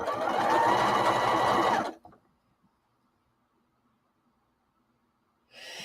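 Domestic sewing machine stitching in a fast, steady run for about two seconds, close and loud, then silence before it starts up again briefly at the end.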